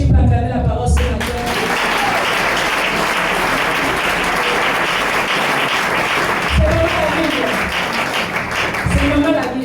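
A church congregation breaks into loud, sustained applause and cheering during a sermon, dense clapping filling the room close up, with voices shouting over it.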